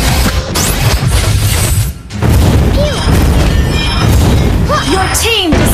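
Heavy booming crash of a turret being destroyed in Mobile Legends, loud and punchy, followed by layered game effects and an announcer voice.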